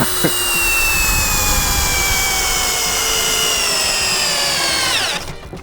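A Dnipro-M CD-218 cordless drill driver drives a screw into timber in a cold setting. A loud, close, continuous motor whine slowly drops in pitch as the screw bites, then cuts off abruptly near the end.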